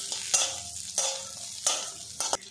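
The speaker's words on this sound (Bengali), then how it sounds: "বাদামটা তেলের সাথে একটু নাড়াচাড়া করে নেব, ভাজা ভাজা হয়ে যাবে।" Raw peanuts frying in oil in a pan, with a soft continuous sizzle broken by four sharp scraping stirs at roughly even intervals, close up.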